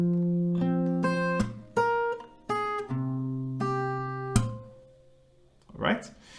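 Slow acoustic guitar playing, with open E and open B bass notes ringing out and sharp percussive clap hits between them, close and clear with no talking.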